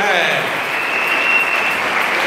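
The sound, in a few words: church congregation applauding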